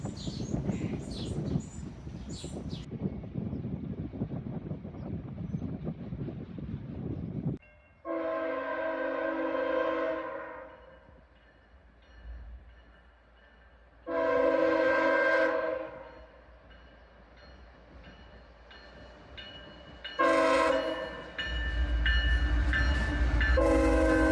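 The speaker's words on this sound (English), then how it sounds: "Another pair of GEs lead this southbound train, an ES44 AC and an ES44 DC." A southbound CSX freight train led by GE ES44AC and ES44DC locomotives rumbles past with strong harmonic horn blasts sounding repeatedly, loud and close, between stretches of rolling rail noise.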